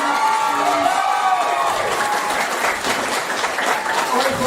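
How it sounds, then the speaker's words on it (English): A theatre audience at a Beauty and the Beast show breaks into loud, sustained applause with some cheering, and a voice briefly sounds over the clapping. "Round of applause."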